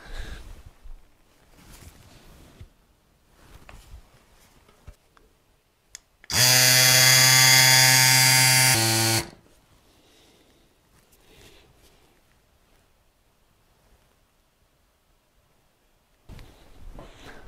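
A Cycplus AS2 Pro electric bike pump runs in a loud, steady motor whine for about three seconds before cutting off, set against quiet background handling noise; the pump is being used to inflate a fat bike tire.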